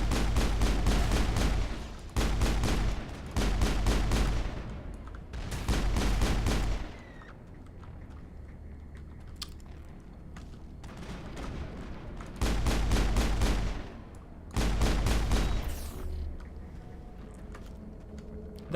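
Sustained automatic weapon fire in the video game Mass Effect, loud bursts lasting one to two seconds each, several volleys separated by brief quieter pauses, with no one talking over it.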